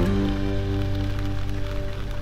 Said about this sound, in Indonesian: Hujan lagi, hujan lagi.